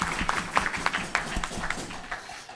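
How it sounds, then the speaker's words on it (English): A crowd at a Rotary Club of Tucson meeting claps for two special guests, a dense, moderately loud patter of many hands that thins out toward the end. "give a big round of applause for our 2 special guests"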